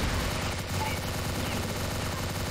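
A Steyr TMP submachine gun fires in a zombie mode of the shooter game Đột Kích: rapid automatic fire that rattles on without a break, loud and close.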